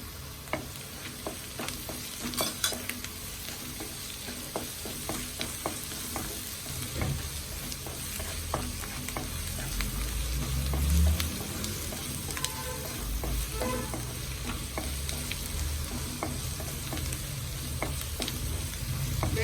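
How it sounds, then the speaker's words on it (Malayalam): Ginger garlic paste frying in oil for garlic dal curry, a continuous sizzle with frequent quick spoon scrapes and taps against the pan, close up, steady throughout with no voices. "ഇഞ്ചി വെളുത്തുള്ളി പേസ്റ്റ് അരച്ച് വെച്ചത് ഇട്ട് കൊടുക്കാം"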